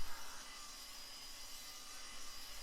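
A powerful 9-inch angle grinder cuts through aluminium with a steady, harsh, hissing whine that holds at an even, fairly loud level throughout.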